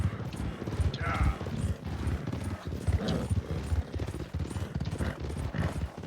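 A horse's hooves beat in a steady, rapid rhythm in Red Dead Redemption 2, fairly loud and continuous across the stretch, with a voice speaking intermittently over it.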